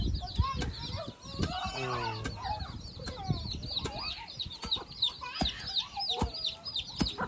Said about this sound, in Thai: ไก่ก็จะมาตอดกินแบบนี้แล้วพี่น้องเลยเนาะ